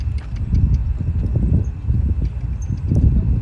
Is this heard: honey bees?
no